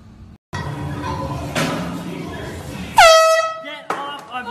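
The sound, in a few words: air horn blasted as a prank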